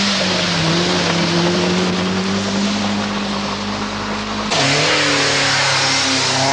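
Ford Escort rally car of the Duckham's team on the 1979 RAC Rally, engine droning steadily with a shifting pitch, then a sudden louder burst and a fresh rise as it accelerates away, close and continuous with no talk.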